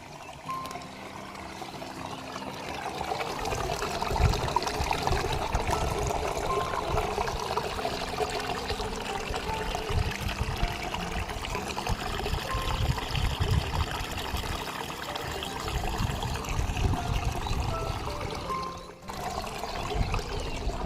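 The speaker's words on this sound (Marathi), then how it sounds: "जसे पावसाळ्यात झरे फुटतात वेगवेगळ्या ठिकाणी तसे झरे फुटलेले आहेत" A forest spring runs as a small stream after rain, water pouring and trickling steadily and close throughout, with no voices.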